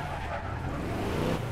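A car in the video game APB reversing and skidding, a steady engine drone with a high tire squeal running under it for a brief moment, close and even in level.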